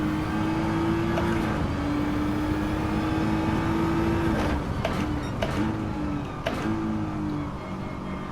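A Nissan GT-R R35 in Gran Turismo 7 drones at high revs in a steady, loud engine tone, with brief drops and shifts as the throttle is lifted and reapplied.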